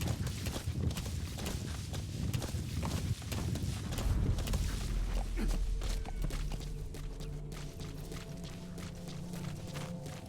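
Horse hooves clip-clop at a steady walking rhythm in the Metal Gear Solid V video game, fairly close and moderately loud, with sustained tonal game sounds taking over in the later part.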